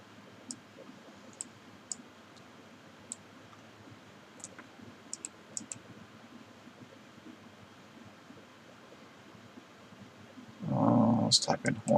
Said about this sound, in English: let's type in horns